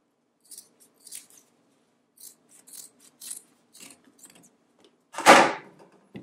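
Scissors trim excess fabric from a dining chair slipcover, with sparse, quiet snips and rustles followed by one louder, longer cutting scrape near the end, close and alone with no talking.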